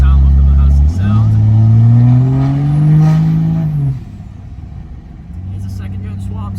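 A pickup truck with a second-generation 6.7 diesel swap, heard while driving: a loud, deep engine drone that rises in pitch as it accelerates, then drops off and settles to a lower rumble, with no talk.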